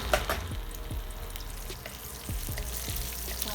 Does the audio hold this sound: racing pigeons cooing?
no